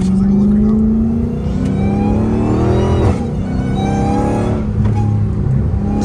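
A Dodge Hellcat Redeye with an aftermarket cold air intake revs hard from inside the car, a loud, close engine roar with a rising supercharger whine that climbs and holds steady.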